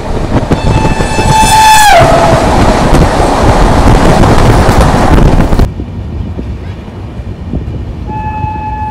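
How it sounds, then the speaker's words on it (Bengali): The Meerut Vande Bharat Express, train 22489 from Lucknow, arrives loud and close at Balamau railway station, sounding a falling horn blast over a heavy rumbling roar that cuts off suddenly, followed by a second brief horn tone. "আসছে মিরাট বন্দে ভারত এক্সপ্রেস"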